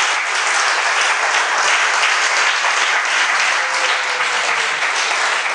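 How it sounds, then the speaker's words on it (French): A church congregation gives loud, sustained applause, a dense wash of clapping that carries on evenly from start to finish with no talk over it. "Et nous acclamons la parole de Dieu"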